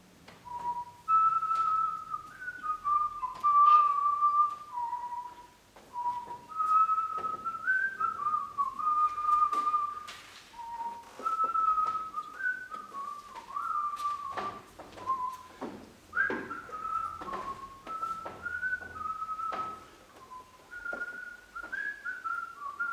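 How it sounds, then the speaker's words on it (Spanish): A person whistles a wandering melody alone, clear notes gliding up and down with short breaks, close and fairly soft, over a quiet background with occasional light knocks. "me puse a silbar."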